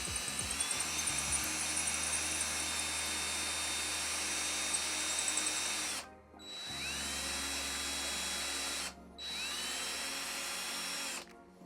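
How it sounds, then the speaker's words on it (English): A power drill whines at high speed in long continuous runs, pre-drilling pocket holes in wood, stopping briefly twice before spinning up again, close and loud with no voices. "By pre-drilling those holes there, I could find out kind of what angle this bit slides in well"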